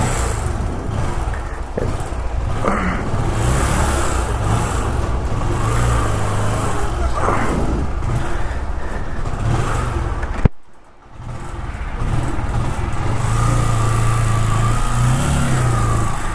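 A Royal Enfield GT 650 motorcycle is ridden along the road, its engine a steady close rumble with wind noise, briefly dropping out mid-ride before resuming at an even pace.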